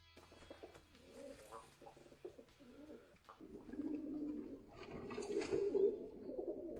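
Bokhara trumpeter pigeons coo nearby in soft, rolling, rumbling phrases that build in loudness toward the end, with light rustling in the background.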